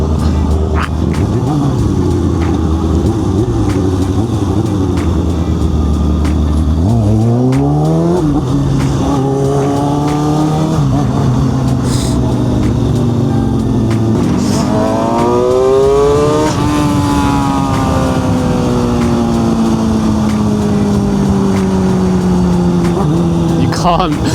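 A 22-year-old Kawasaki stunt motorcycle engine revs repeatedly, pitch climbing and dropping in loud surges over a constant rumbling drone, with some talk mixed in.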